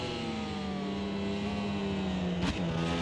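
Ducati racing motorcycle engine holding a steady high-pitched drone near the track as it sets off, with a sharp shift or blip of the revs midway before it carries on.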